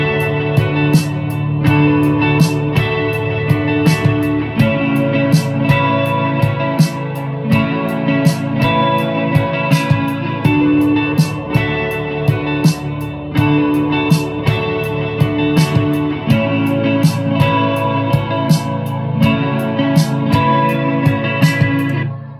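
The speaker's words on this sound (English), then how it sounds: "Just gonna show you the chords I just played and the lead line I came up with to go with it." Guitar chords with a melodic lead line on top play back from GarageBand with compression, EQ and reverb, a full continuous mix with steady strummed rhythm and picked notes throughout.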